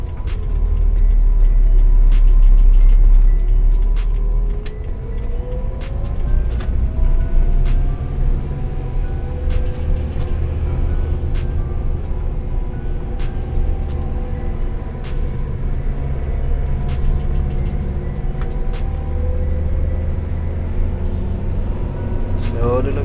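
A manual-transmission car engine under acceleration while learning to drive, heard from inside as a steady loud low rumble with slowly rising and falling engine tones, with an instructor talking over it throughout.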